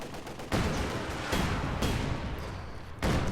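Panzerschreck rockets striking a T-70 tank in Company of Heroes 2, heard as several heavy blasts and rumbling impacts over dense battlefield gunfire, loud and close.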